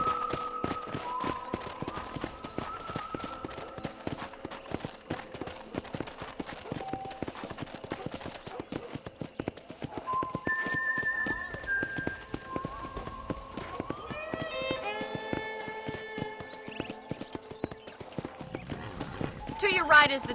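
Horse hooves clip-clopping at a steady trot in the video game Red Dead Redemption, a continuous rhythmic beat with occasional whinnies and a musical score, and people talking throughout.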